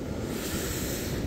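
Ocean surf washing steadily at a fishing shore where the waves are weak, a continuous broadband rush with wind noise and no distinct breaks.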